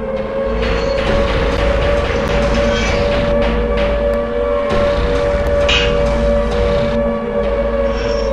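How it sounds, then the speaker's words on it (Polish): A loud, sustained air raid siren in a video game boss encounter holds a steady wailing tone over a low rumbling drone, continuous throughout with no voices. "towarzyszy odgłos syreny alarmowej"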